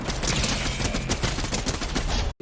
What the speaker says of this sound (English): finishes a player using a shotgun